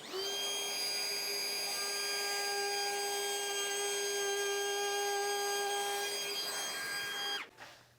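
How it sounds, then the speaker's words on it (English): A Milwaukee M18 midsize cordless router with an edge guide and mortising bit cuts a shallow dado across the end of a board with dust extraction running, a loud, steady high whine for about seven seconds that then cuts off. "Just gonna do a shallow dado here on the end."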